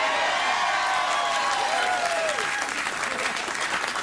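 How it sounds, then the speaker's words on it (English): A late-night talk show studio audience gives Carol Burnett a loud, sustained round of applause with some cheering, continuous and close. "The first time the round of applause was appropriate was right there."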